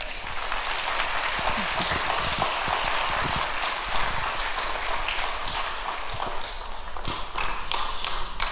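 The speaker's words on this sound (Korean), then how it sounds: "성도님들께서 힘차게 다시 한번 박수해 주시기 바랍니다" A church congregation claps hard and steadily for graduating young adults at a Korean worship service, dense continuous applause at close range with no talking.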